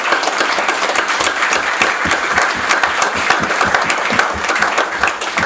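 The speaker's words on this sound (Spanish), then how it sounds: "Démosle una ofrenda de aplauso al Dios de los cielos." A congregation at a church service gives sustained applause to God, a dense crowd of many hands clapping steadily and loudly for several seconds without pause, with no speech over it.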